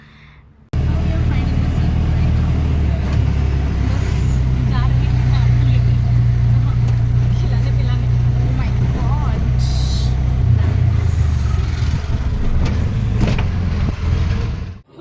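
Riding in an auto rickshaw through city traffic toward Vikhroli railway station, a steady loud engine drone and road rumble fill the cabin, with passing vehicles and voices talking over it.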